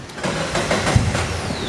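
A Joyner Renegade four-seater off-road vehicle with a Chery Automotive engine starts up, its motor catching and settling into a loud, rough rumble at close range.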